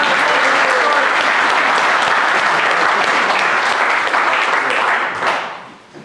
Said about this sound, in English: So let's give these guys a good round of applause.